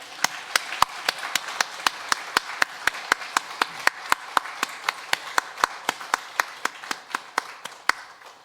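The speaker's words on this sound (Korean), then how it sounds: "힘찬 박수로 영광 돌립니다" A church congregation claps during a Sunday worship service, sharp, evenly spaced claps at about three per second in a steady unison rhythm, moderately close in a reverberant hall.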